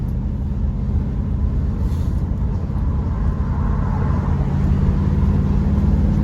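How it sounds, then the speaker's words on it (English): Steady, loud engine drone and road rumble from inside a classic Triumph Stag on the move, rising slightly toward the end, with no voices. "So yeah, car's running really well."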